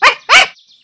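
A small dog in a Lalaloopsy Wizard of Oz cartoon gives two quick, high, loud barks close up, back to back, then falls silent.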